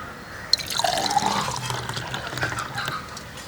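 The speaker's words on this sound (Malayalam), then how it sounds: "നേരെ കുടിക്കാനായിട്ട് ഇതാ ഗ്ലാസ്സിലേക്ക് അങ്ങോട്ട് ഒഴിക്കാം" Custard shake pours from a vessel into a glass, giving a soft, close liquid splashing and dribbling for a few seconds, fairly quiet with a small drip-like tick near the start.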